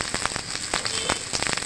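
A cabbage and egg mixture sizzles and crackles steadily in a frying pan, close and loud, with a few sharper pops.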